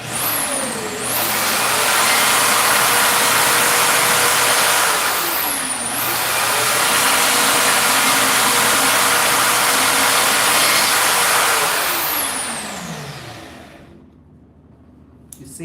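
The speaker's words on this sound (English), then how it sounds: "I'm going to use the bandsaw for 1 second, which is extremely loud" A bandsaw cuts a Kydex sheet in a workshop, a loud, steady, close roar and whine that holds for about thirteen seconds and then cuts off, leaving near quiet.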